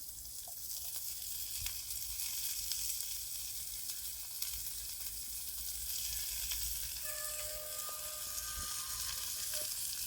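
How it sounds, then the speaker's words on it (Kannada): Steady sizzling from a pan of fried onions as tomatoes are added for a moringa egg bhurji, a constant bright frying hiss close by with occasional stirring clinks and no talk. "ಆನಿಯನ್ ಫ್ರೈ ಆಯಿತು. ಈಗ ಟೊಮೊಟೊ ಹಾಕೋಣ."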